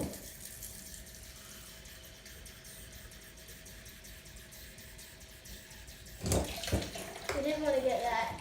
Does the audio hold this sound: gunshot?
no